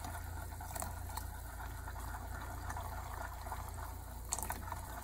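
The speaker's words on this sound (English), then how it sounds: "you start whisking and then slowly pour this in a little bit at a time" A cornstarch slurry is poured slowly, a little at a time, into pot roast juices while being whisked, giving a soft, steady liquid sound with a few light clinks.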